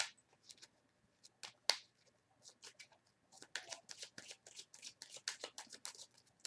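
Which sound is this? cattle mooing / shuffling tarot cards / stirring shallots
shuffling tarot cards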